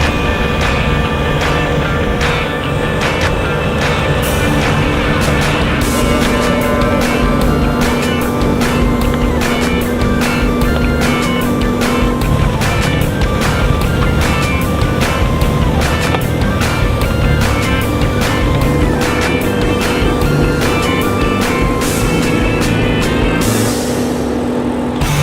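Skid steer with a snowblower attachment throwing hard-packed snow, a loud, steady engine and blower roar running unbroken throughout with no talk.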